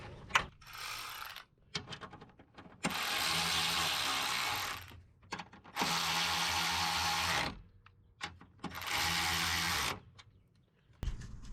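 A power tool drives screws to mount parts of an ARB twin air compressor on a 2020 Jeep Gladiator, with several sustained whirring bursts separated by short pauses and clicks, close and clear.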